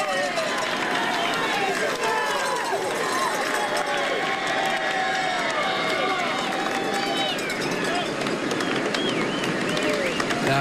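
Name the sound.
crowd cheering at the Tour de France in Bourg d'Oisans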